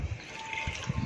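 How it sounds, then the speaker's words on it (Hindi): A little water trickles into mutton marinade ingredients before grinding. It makes a faint, brief dribble with soft low splashes, heard close with no talk. "थोड़ा सा पानी डाल लेंगे इसमें"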